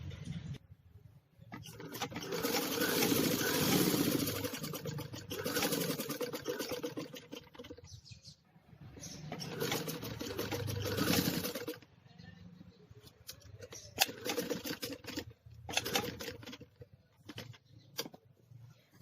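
A sewing machine stitches a net boat-neck blouse in several whirring runs of a few seconds each, separated by short pauses, fairly faint, with quick stop-start bursts near the end.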